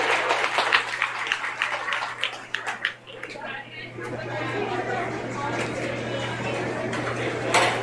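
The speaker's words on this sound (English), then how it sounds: "Let's give them a big round of applause for them." A crowd at a goat show ring claps in a scattered burst of applause, with chatter mixed in as the clapping blends into general room noise.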